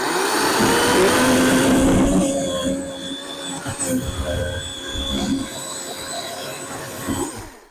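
A battery-powered chainsaw cuts through white oak with a loud, high whine for about two seconds, then drops into a quieter, uneven grinding as the cut continues, briefly swelling again near the end.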